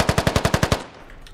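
A rapid burst of about eight machine gun shots in the video game Squad, evenly spaced and loud, followed by a fading echo.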